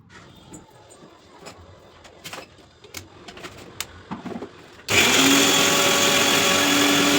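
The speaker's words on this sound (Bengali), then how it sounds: "একটু জল দিয়ে দিলাম, দিয়ে ভালো করে মিক্সিতে পেস্ট করব।" Green chillies with a little water blitzed into paste in a kitchen mixer grinder: after several seconds of quiet clinks and handling, the motor abruptly starts with a loud, steady high-pitched whirring roar.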